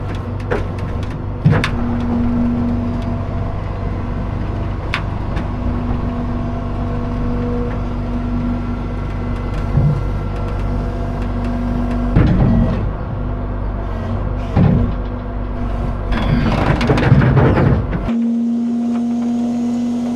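A one-ton tow truck's wrecker bed rolls out with a steady mechanical hum and low drone, broken by a few clunks and rattles, before the motor cuts off abruptly near the end.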